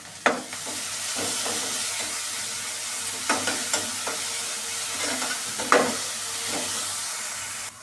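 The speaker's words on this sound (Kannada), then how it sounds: "ಈಗ ಒಗ್ಗರಣೆ ಆಗಿದೆ" Tempering spices sizzle in hot oil as a spoon stirs and scrapes the pan in repeated sharp strokes, close and fairly loud, with no one speaking.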